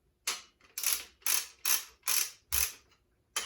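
Ratchet wrench tightening parts on a build, sounding as a steady series of about seven sharp, close clicking bursts in a back-and-forth rhythm, with no voices.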